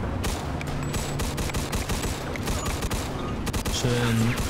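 Rapid automatic gunfire rattles in dense bursts, a Thompson submachine gun in the video game Mafia 2 Definitive Edition firing in quick succession with sharp cracks, while a voice speaks briefly over it.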